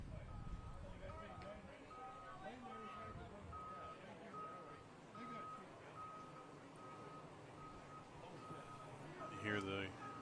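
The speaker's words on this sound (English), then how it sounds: "You hear the bus backing up behind us here." A bus backing up behind a baseball field at a state tournament game sounds steady, evenly spaced reversing beeps at moderate distance, repeating throughout under a commentator's talk and crowd and engine noise.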